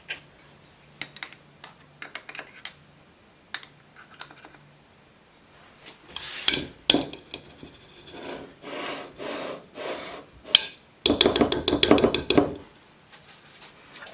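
Dry baking ingredients of flour, sugar and cinnamon being added and stirred in a jug for spiced apple duffins, heard as scattered clinks, taps and scraping clatter that grows busier and louder toward the end.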